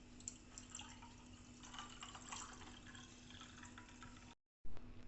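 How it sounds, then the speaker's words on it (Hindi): Water pours faintly into a glass of masala shikanji lemonade already mixed with sugar syrup, a quiet, close, trickling fill with no voices. "और अब हम इसमें पानी ऐड करेंगे।"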